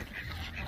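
Ducks quacking on a farm, a short steady burst of nasal calls close by, with no talk over them.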